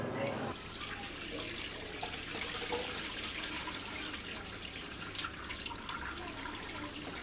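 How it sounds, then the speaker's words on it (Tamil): Soaked cashew nuts are washed under running tap water for kaju katli, a steady close rush of water with faint splashing throughout after a brief quieter start. "இதை வந்து நம்ம வாஷ் பண்ண போகிறோம்"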